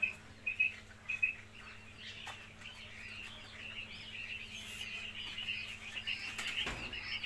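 Small caged quail chirping on a poultry farm, a scatter of soft high calls and brief peeps over quiet background hiss, with a few clearer chirps early on.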